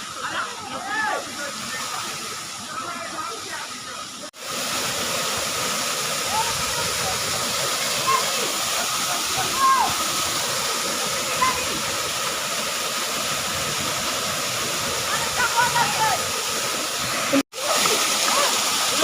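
Dhalai waterfall roars in a constant broad rush, loud and near, with a few short cuts and faint voices buried in the noise.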